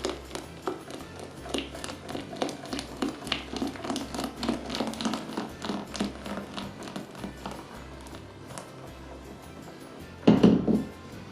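Egg and sugar whisked by hand in a bowl, producing steady rapid tapping and clinking of the whisk against the sides, close and moderately loud, with a brief louder knock near the end and no talk.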